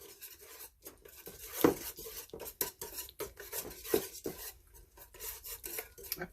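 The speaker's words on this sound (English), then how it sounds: "Mix it all together." A utensil mixing mussels poke in a bowl, with irregular scraping and clinking strokes against the dish, quiet and close with no voices.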